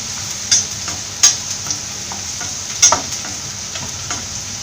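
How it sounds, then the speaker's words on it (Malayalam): Ginger and garlic sauté in a hot pan for a Kerala-style mutton curry, a steady close sizzle broken by a few sharp clinks of a stirring spoon against the pan, with no voices. "ഇഞ്ചിയുടെയും വെളുത്തുള്ളിയുടെയും പച്ചമണം മാറുന്നവരെ ഒന്ന് വഴറ്റിയെടുക്കാം"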